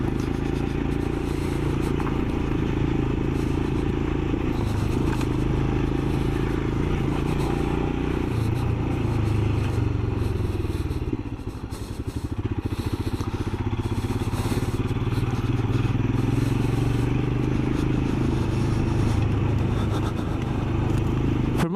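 A Royal Enfield Scram motorcycle engine drones steadily through a ride, loud and close, with a brief dip in the middle before the engine note picks up again.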